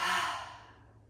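A single audible 'ha' exhale through the mouth during a trauma-informed yoga breathing practice, a close, breathy rush of air that fades out over about a second.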